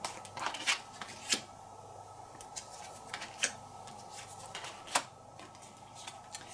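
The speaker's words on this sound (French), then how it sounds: "je vais récupérer 3 cartes avec des poissons" Playing cards drawn and handled during a solo round of the Bangkok board game: a few soft, scattered flicks and snaps of card stock, close and light, separated by quiet pauses over a faint steady hum.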